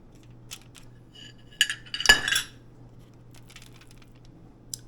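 A fork digs into a mackerel tuna burger patty to split it and flip the first piece, giving a few close scrapes and a sharp clink against the pan amid faint background hum.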